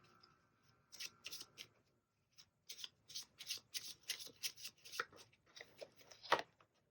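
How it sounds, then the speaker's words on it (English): Tarot cards being shuffled by hand, a run of quick papery riffles and soft slides in bursts with brief pauses, close and fairly quiet, no talking. "let's go ahead and shuffle these"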